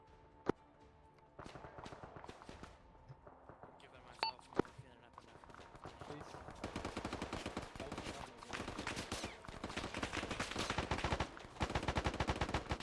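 Gunfire in the military video game Arma 3 during fast-paced urban combat: a few scattered shots early, then sustained, dense bursts of rapid fire that grow louder, with voices talking in the background.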